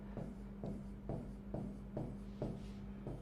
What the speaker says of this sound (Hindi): यहां लिखता हूं मैं,